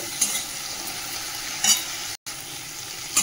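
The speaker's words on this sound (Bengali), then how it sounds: "হলুদটা দিয়ে আরেকটু নাড়াবো" Tomato and turmeric frying in a pot, stirred with a spoon: a steady close sizzle with periodic scraping strokes, broken by a brief dropout, no voices.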